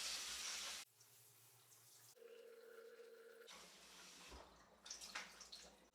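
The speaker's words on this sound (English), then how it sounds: "Okay, so I'm going to wash the oregano." Cold tap water runs into a kitchen sink while fresh oregano sprigs are rinsed, the steady flow shifting in tone as the herbs move under the stream, with no talking.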